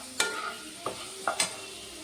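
Spicy potatoes being stirred in a pan, four quick scraping strokes of the spoon against the pan over a soft frying sizzle.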